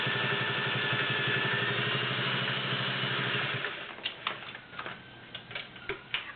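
A Singer 500A Slant-O-Matic Rocketeer sewing machine stitches zigzag with a steady, rapid mechanical chatter for nearly four seconds, then stops, leaving a few scattered light clicks and handling noises.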